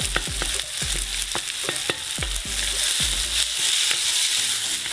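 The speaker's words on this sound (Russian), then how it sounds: "Буквально минуту прожариваем" Potatoes fry in a pan at an outdoor kitchen, a bright steady sizzle with quick rhythmic spatula knocks and scrapes against the pan, close and loud, no talking.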